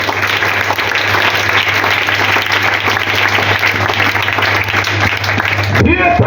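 A church audience bursts into sustained, loud applause that fills the space evenly for several seconds before cutting off abruptly, with voices mixed into the clapping.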